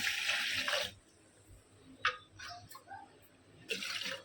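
Water splashes from a tap into a pot of washed rice for kheer, in two bursts, one at the start and one at the end, with small drips and clinks between.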